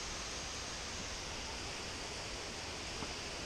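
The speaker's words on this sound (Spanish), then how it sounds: "Mira la cascada" Waterfall at the Sorrosal via ferrata near Broto, a steady broad rushing roar of falling water, constant and unbroken with no voices.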